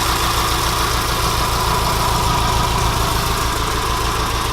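A van engine idles steadily and loudly throughout, with a continuous low rumble and mechanical vibration, close and unbroken, with no talking.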